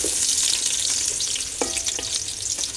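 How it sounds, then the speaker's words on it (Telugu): Onions hiss and sizzle in a few spoonfuls of hot oil, a steady close frying noise with light stirring scrapes and a few brief clinks, no voices. "ఆయిల్ హీట్ అయిపోయింది. ఇప్పుడు ఉల్లిపాయలు ఇవన్నీ వేసుకుంటున్నాను."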